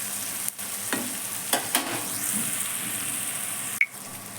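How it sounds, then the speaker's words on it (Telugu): Egg paneer frying in a pan, with a steady close sizzle throughout, a few scraping stirs, and one sharp clink near the end, no voices. "ఇదిగోండి, ఇలా ఫ్రై చేసుకోవాలి."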